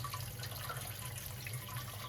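Sparge water runs steadily into a mash tun during an all-grain homebrew day for a Citra beer, a continuous close rushing and trickling flow with no talking.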